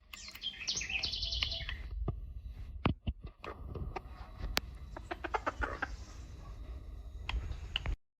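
A Ko Shamo hen, a Japanese miniature chicken breed, calls at a poultry market with short chirps and clucks amid clicking, tapping noises and other birds.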